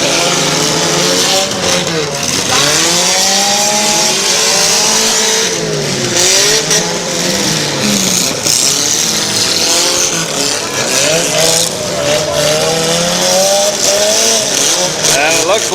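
Mini car engines roaring and revving continuously at the Athens County derby heat, with rising and falling whines from several cars at close range, a loud, steady mechanical din under an announcer's voice.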